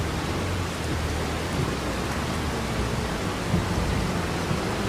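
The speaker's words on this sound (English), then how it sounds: "And it's raining as well, and the snow is still here in April." Steady rain falls in Farming Simulator 25, a dense, even wash of patter filling the whole stretch with a faint low rumble beneath, unbroken and fairly loud throughout with no talk.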